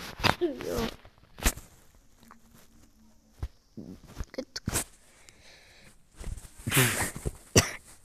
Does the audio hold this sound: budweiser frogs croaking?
no